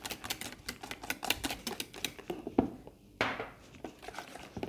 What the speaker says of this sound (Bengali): শেষ তেলটা দিলাম, দিয়ে এবারে আবার বিট করব।